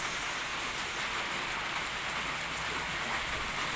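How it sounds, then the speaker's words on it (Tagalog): Steady rain falls on a farm on a wet day, a constant close hiss of drops on surfaces with no talking and no other sounds. "Ayan, medyo maulan na naman."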